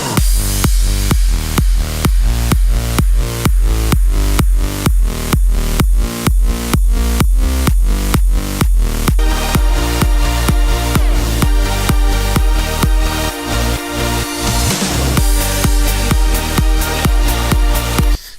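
A progressive house drop: a plucky synth bassline locked to punchy four-on-the-floor kicks and drums, loud and dense, with risers and sweeping effects building toward the end, purely instrumental.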